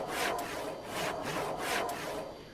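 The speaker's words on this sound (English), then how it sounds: "it makes that sound, that sawing sound." Handsaw cutting wood in the farming game Farming Simulator 22, three rhythmic rasping strokes of even length following one another closely, with no talk.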